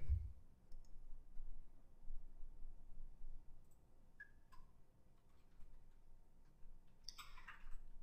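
Quiet computer mouse clicks sound in a still room, a couple of isolated light clicks followed by a brief cluster of sharper clicks near the end.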